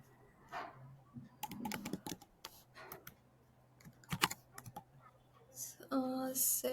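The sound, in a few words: typing code on a computer keyboard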